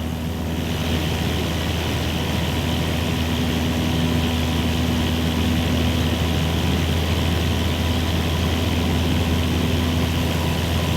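A propeller aircraft engine runs at full takeoff power in Microsoft Flight Simulator 2024, a steady, loud, droning roar with a constant hum that holds unbroken throughout.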